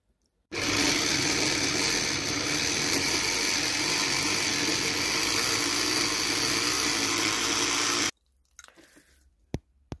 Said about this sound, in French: Dans le même hachoir, hachez le poisson ainsi que les crustacés.